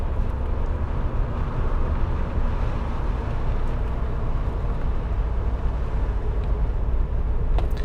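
A 1986 Porsche 928S V8 idles with a steady, low, even rumble, close and continuous with no talk over it.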